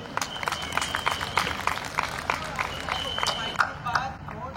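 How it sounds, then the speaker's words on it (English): Audience applause breaks out at the end of a speech about education, steady clapping with scattered louder claps and faint crowd murmur throughout. "Have a huge round of applause."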